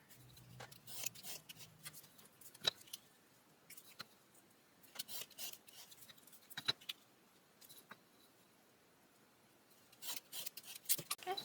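A craft knife cuts out paper pieces for Christmas ornaments with quiet, scratchy strokes in irregular bursts, some crisp and brief, with pauses between cuts.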